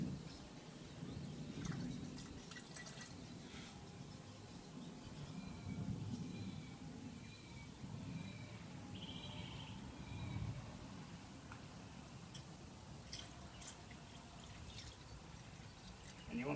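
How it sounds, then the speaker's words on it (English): Concentrated coolant is poured into the cooling system of a Holden SB Barina/Corsa, giving a faint, continuous trickle and gurgle of liquid with a few brief surges. "So now pour in your concentrated coolant of choice."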